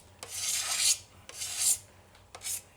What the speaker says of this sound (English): a cabinet scraper does a pretty good job of taking that lip off